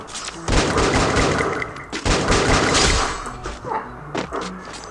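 A new gun firing in the video game Free Fire, with dense bursts of rapid shots and thuds in two main volleys, then scattered hits, loud and close, with game sounds around them.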